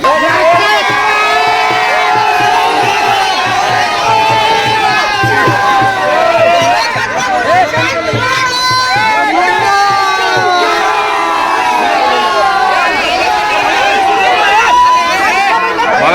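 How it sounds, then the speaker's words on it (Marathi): A dense crowd at a bullock cart race cheers and shouts continuously, loud and close, with overlapping voices and excited calls forming a steady roar throughout. "पब्लिक जरा जल्लोष करते"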